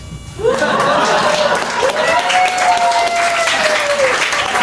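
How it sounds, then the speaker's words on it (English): Audience applause at a presentation, a dense crowd clapping steadily and loudly for over four seconds, with a held whistle or cheer running through it. "I'm going to ask you for a round of applause for the jacket."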